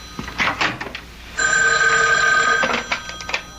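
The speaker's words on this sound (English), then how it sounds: "Excuse me, that's my phone." An old-fashioned telephone bell rings in a radio drama, one sustained loud ring burst in the middle, with a voice talking before and after it.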